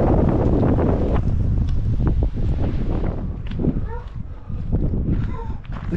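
Strong wind batters the microphone at a lake campground at Navajo Lake State Park, New Mexico, with loud, gusty low rumbling that eases slightly partway through. Faint higher tones and rustling come through in the background.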